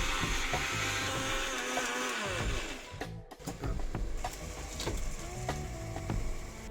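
A blender grinding roughly chopped tomatoes into a smooth paste, a loud continuous motor whir and churn that shifts pitch mid-way as the contents break down, no talking.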